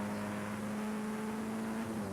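Production saloon race cars in the 1988 Uniroyal Tyres championship round at Brands Hatch GP circuit, a steady loud engine drone with a strong sustained tone as the cars run closely together past the line, no talk.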